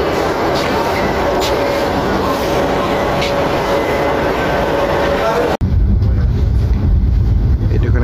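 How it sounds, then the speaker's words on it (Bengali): A train leaving Parbatipur railway station: a loud, continuous rumble and rattle of rolling carriages, heard close and steady, with a brief dropout partway through, then a deeper, louder roar. "পার্বতীপুর রেল স্টেশন ছেড়ে যাচ্ছে।"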